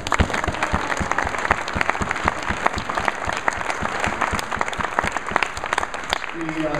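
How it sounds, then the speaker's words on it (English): Applause fills a tourism conference hall as the audience honors the organizers, a continuous crackle of many hands clapping at even loudness, with a voice speaking over it near the end. "give them a round of applause"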